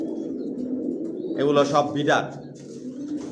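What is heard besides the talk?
pigeons cooing in a loft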